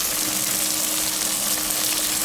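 Vegetables, including cabbage and okra, sauté in a pan for a horse gram curry, a continuous, even sizzling hiss with no distinct stirring strokes.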